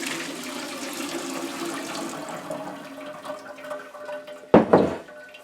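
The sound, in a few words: pulled pork liquid draining through a colander into a pan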